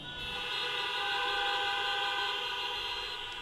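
A crowd at a talk sounds vehicle horns together in one long, sustained blare with a steady tone, sitting close and constant for the whole stretch.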